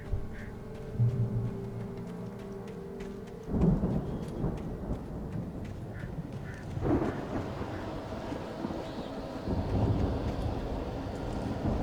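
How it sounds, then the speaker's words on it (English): A thunderstorm with rain in the video game Alan Wake, steady rainfall hissing throughout while deep thunder rumbles roll in several times, fairly faint and distant overall. "The storm raged on"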